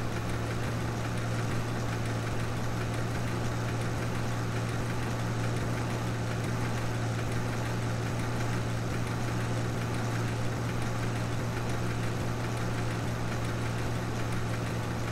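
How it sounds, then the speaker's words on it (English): A small tractor engine idling steadily at an old-school logging site, a constant low droning hum with a mild mechanical rattle running on unchanged and fairly close, with no talking. "it's a small tractor"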